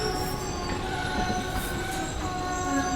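A Vande Bharat train on the Vadodara–Rajkot run, halted by a chain pull, with a steady rumble of rail cars, wheel squeal and a faint horn, loud and continuous with no talk.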